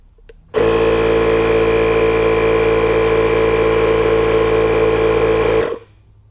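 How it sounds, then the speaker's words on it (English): A portable air inflator hooked to a car tire drones steadily and loudly for about five seconds, a tonal motor hum with strong harmonics that starts abruptly and cuts off cleanly, with no talking over it. "So now we're just going to go ahead and turn on the inflator and see what the actual pressure is of that tire."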